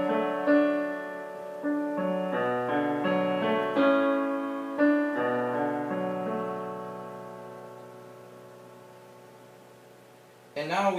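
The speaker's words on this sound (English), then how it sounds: "So the second half of the second piano part would sound like this." Piano playing the second half of the second piano part of a piece, a steady sequence of struck chords and notes ringing out clearly and evenly, close and alone.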